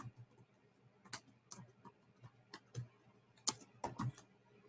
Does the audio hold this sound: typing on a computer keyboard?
yes